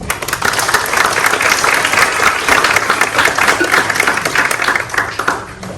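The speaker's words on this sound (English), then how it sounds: "we just give them a round of applause" Steady applause from a crowd at a graduation ceremony, dense and continuous for several seconds, fading slightly at the end.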